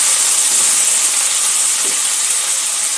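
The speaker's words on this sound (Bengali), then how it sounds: "আলুটা দিয়ে দেব। আলুটা একটু ভেজে নেব।" Potatoes frying in a pan for jhinga shukto, a loud, steady close-up hiss of hot oil that stays even throughout, with no voices.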